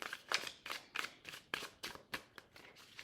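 A deck of tarot cards is shuffled in a quiet room, a series of about eight crisp riffling bursts in a loose, even rhythm, close and soft, with no talking.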